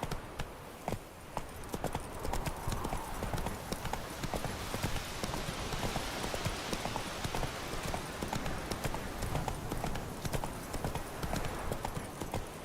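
Roach the horse gallops in The Witcher 3, a steady rapid clip-clop of hooves running continuously and close, with ambient game sound underneath.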